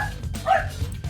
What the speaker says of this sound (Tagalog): Huwag niyo pansinin yung aso, maingay din eh.